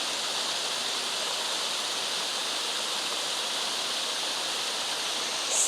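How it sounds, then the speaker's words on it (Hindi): Steady, loud rush of flowing water, a continuous stream or small waterfall with no break throughout. "पानी तो पीछे से कहीं आ रहा है।"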